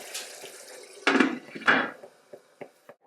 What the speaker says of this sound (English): I cover it at this point because I don't want to lose too much liquid